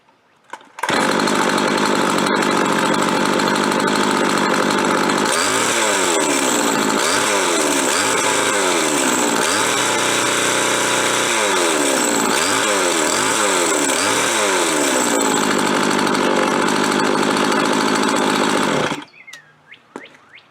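A chainsaw engine rigged to drive an air compressor runs steadily and loudly for nearly twenty seconds, settling into a raspy, even idle broken by repeated throttle surges before it cuts off.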